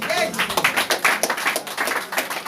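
Church congregation clapping in praise of the Lord, quick dense rhythmic claps with voices mixed in, close and fairly loud.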